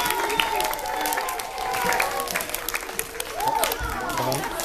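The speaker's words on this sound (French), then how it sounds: "On peut les applaudir une dernière fois." Audience clapping after a children's poetry recital at a school or family show, a steady wash of applause with some cheering and voices mixed in throughout.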